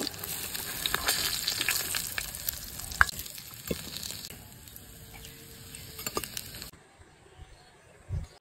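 Hilsa fish frying in a pan, a steady sizzling hiss with a few spatula knocks and scrapes, cutting out abruptly near the end before a final clunk.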